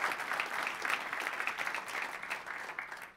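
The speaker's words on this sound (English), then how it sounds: "Everybody, give us a big round of applause for Mr." Steady audience applause fills a lecture hall after a talk on machine learning, dense continuous clapping holding at a moderate level before tapering slightly at the end.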